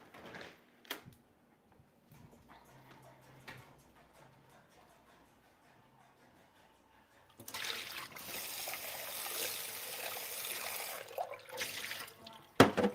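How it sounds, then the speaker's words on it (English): Water container being rinsed out in a kitchen sink, quiet dribbles and clinks at first, then a strong steady rush of tap water splashing for several seconds before stopping with a sharp knock. "Y'all can hear me literally rinsing out my water container in my sink"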